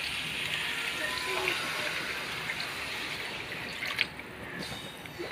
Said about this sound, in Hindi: तो इसमें हम पानी ऐड कर रहे हैं।